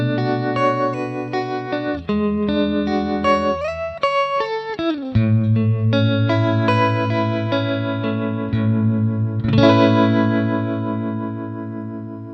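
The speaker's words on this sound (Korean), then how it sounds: "2가지 트레몰로 모드와 3가지 트레몰로 타입, 탭 템포 및 내부 트리머의 추가 설정까지도 가능한 복합적인 기능의 트레몰로 페달이고요" Sustained distorted guitar chords pulse with a wavering tremolo from a JAM Pedals Harmonious Monk tremolo pedal, shifting through changes and swelling near the end, no voices present.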